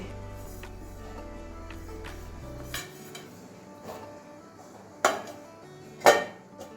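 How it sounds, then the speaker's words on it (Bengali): A lid set onto a cooking pot of cauliflower, potato and mushroom curry, heard as a sharp metallic clatter with a second louder clank, over a steady low hum. "এবারে ঢাকা দিয়ে দিচ্ছি"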